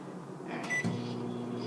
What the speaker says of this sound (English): So we have this thing called a microwave